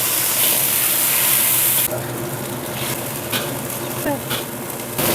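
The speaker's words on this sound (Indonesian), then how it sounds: "sekarang saya sedikit tumis sayur buat nenek" Vegetables stir-fried in a pan make a loud, close hiss that drops abruptly partway through, followed by a quieter sizzle with repeated scraping pulses from stirring.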